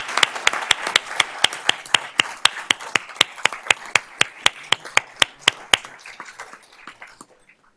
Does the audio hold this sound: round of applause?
yes